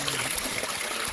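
Water pours and runs steadily outdoors on a mountain trek, a continuous, fairly soft rushing trickle with no voices.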